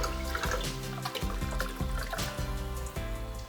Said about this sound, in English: may I suggest a Saint-Géron, a naturally sparkling water that's well balanced with a pleasant sparkle.